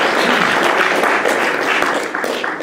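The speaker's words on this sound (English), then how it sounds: "let's give him a round of applause" A class audience claps for a guest speaker in a lecture room: a brief burst of thick, continuous clapping close by that thins slightly toward the end.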